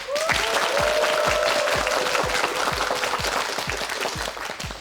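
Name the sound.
applause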